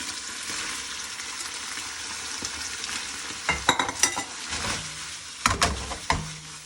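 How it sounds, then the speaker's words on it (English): Cold pasta being added to a pan of bolognese sauce and tossed, with a low steady sizzle followed by several close clattering bursts of stirring and pan movement. "put some sauce in the pan like so. Add your pasta in."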